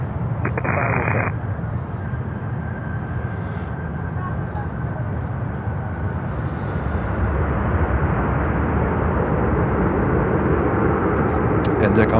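An arriving Boeing 787 Dreamliner produces a continuous low engine rumble that grows slightly louder toward the end, with brief radio chatter at the start.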